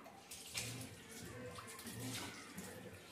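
Water pours steadily from a tap into a Brinox pan being washed with detergent, a soft continuous splashing rush with a few brief louder splashes.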